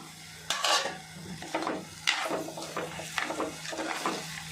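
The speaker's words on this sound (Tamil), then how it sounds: "இப்போ நல்லா வதக்கலாம் வதக்கிட்டு மாங்காய் போட்டுடலாம்" Ground masala paste with chilli powder and turmeric is stirred and sautéed in a pan for an anchovy fish curry, with repeated scraping and clinking of a spoon against the pan and a faint sizzle, close and alone.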